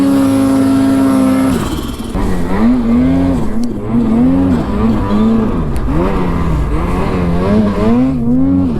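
A snowmobile bogs down and gets stuck in deep powder. Its engine revs loudly and close by, the pitch rising and sagging in repeated waves as it strains, with no break in the sound.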